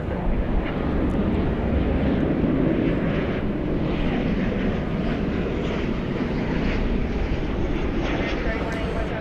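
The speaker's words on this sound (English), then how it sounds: "American Airlines One World livery off to Fresno, 737-800" An American Airlines Boeing 737-800 in One World livery produces a steady, broad jet roar that holds evenly throughout at night at DFW Airport, with people talking over it.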